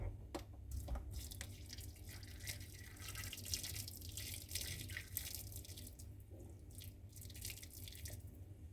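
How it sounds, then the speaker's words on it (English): Water poured into a pan holding tenderized beef steak over medium-high heat, a steady close splashing and trickling that runs the whole time with faint drips over it. "Add water."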